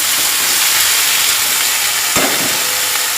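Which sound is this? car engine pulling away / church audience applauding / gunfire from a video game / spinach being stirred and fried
spinach being stirred and fried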